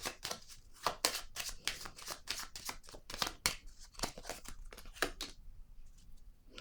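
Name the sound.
card being placed down on the table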